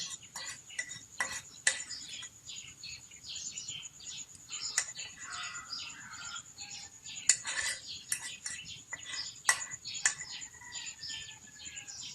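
Sardines, potatoes and eggs are stirred in a bowl with a utensil, giving repeated light clinks and scraping strokes, faint and steady, with birds chirping in the background.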